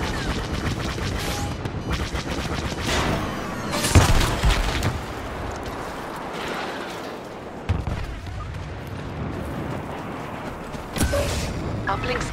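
Blaster fire and heavy booms from a Star Wars Battlefront battle against an AT-AT walker, with repeated bursts and impacts running through the whole stretch, the loudest blasts near the start and again late on, set over dense battlefield noise.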